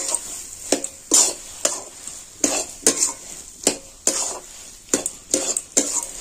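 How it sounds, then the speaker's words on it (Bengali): Cauliflower filling frying in a pan, stirred with a utensil in repeated scraping strokes roughly every half second over a steady sizzle, close and clear with no talking. "আবার আমি এটাকে ভালো করে নেড়ে চেড়ে নিচ্ছি।"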